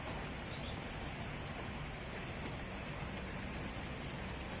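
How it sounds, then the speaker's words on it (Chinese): Steady rain falls outside a rented room overlooking dormitories in an industrial area, a continuous even hiss with a few faint drops standing out, no voices. "今天下雨，大家看一下"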